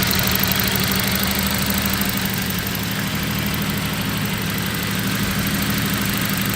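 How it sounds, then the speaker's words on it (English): A 1993 Jaguar XJS coupe with a 6-litre V12 idles while warming up, a steady, smooth mechanical hum with a low, even rumble and no change in revs, heard close up with no talking. "6 litre V12 here, running up to temperature."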